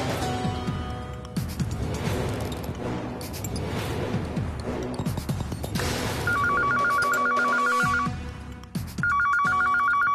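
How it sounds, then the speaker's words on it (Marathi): A telephone rings in two bursts of repeated electronic trills over busy, noisy background sounds. "कोण फोन करते?"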